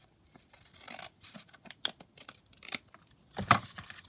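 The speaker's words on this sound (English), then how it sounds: "just need to trim a little bit more off of here" Scissors snip through background paper in a craft session, a close run of short, crisp cuts and rustles with brief pauses, louder sharp snips near the end.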